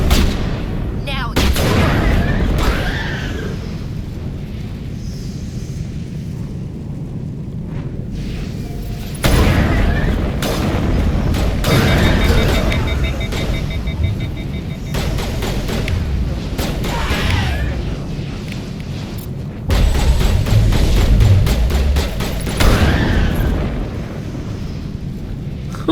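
Repeated heavy booms and cannon blasts with explosions in the game Mass Effect, loud bursts arriving every few seconds over a rumbling battle background, with voices talking in between.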